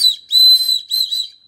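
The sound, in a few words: rescue whistle on a paracord zipper pull being blown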